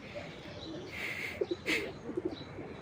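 Pigeons let loose to bask in the sun coo softly over a few seconds, with short low coos and chirps over steady outdoor background noise, no talking.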